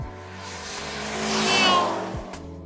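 A Dodge Neon SRT4 with a small engine accelerates hard, its engine note rising and swelling in loudness to a peak before easing, with a brief sharp transient near the end.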